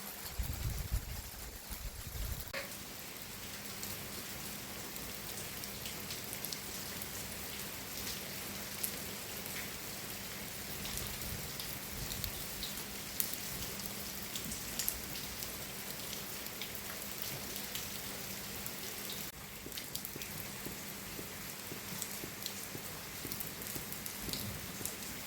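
Steady rain falls on surfaces throughout, a dense continuous patter of drops heard alone at moderate level with no talking.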